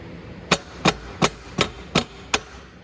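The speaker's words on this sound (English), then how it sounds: "I'm going to actually tap my axle forward a little bit more first" Six sharp, evenly spaced hammer taps at close range, striking an electric 1000 W ATV's axle to nudge it forward during a chain change, each tap ringing briefly with no talking.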